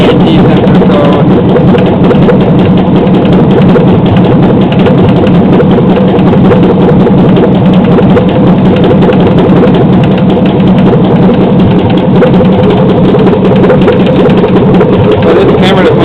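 A 2007 Chevrolet Silverado's 5.3L LH6 V8 with Displacement on Demand idles at about 644 rpm with a lifter tick, giving a loud, steady low rumble with fast, even ticking throughout and no talk.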